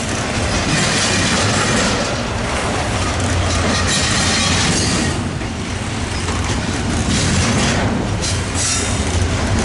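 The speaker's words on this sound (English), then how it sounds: "we got a Metrolink to Laguna Niguel" Metrolink commuter train 622 rolls in on the rails at Commerce, a loud, continuous rumble of wheels with rhythmic clatter and hints of squeal. It stays close and heavy for the whole stretch.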